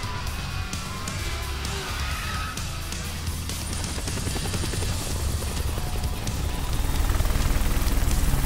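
Helicopter rotor chopping steadily through a Tekken 8 video game cutscene, loud and close throughout, building slightly toward the end under a dense layer of engine rumble and ambient game sound.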